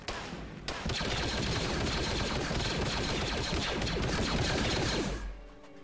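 Continuous rapid gunfire in an online water warfare video game, a dense unbroken stream of shots lasting several seconds at steady loudness before cutting off abruptly, with no talk.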